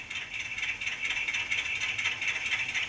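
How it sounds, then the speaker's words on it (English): An HO-scale model diesel locomotive's sound module plays a diesel motor starting up, a small speaker giving a steady, rattly, hissing chug that pulses evenly throughout, close and alone. "you get the sound of one Beta diesel motor starting up"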